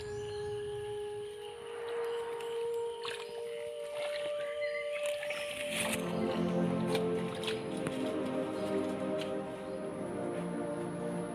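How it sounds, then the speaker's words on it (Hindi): Water from a small forest waterfall babbles and splashes steadily, close by, with bird calls and scattered drips over the continuous rush and no talking. "छोटे मोटे झरना ही लगते कल कल के आवाज करत है"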